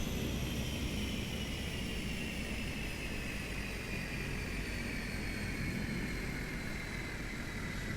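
A simulated Cessna 208B Grand Caravan turboprop in Microsoft Flight Simulator 2024 being shut down: a steady, even engine drone and whine whose pitch sinks slowly, holding level loudness throughout with no voices.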